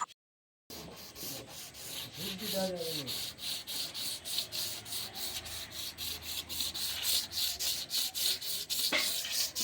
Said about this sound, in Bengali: দেড়শো নম্বর পেপারে আমরা প্রথমে ভালো করে খাটিকে ঘষে নেব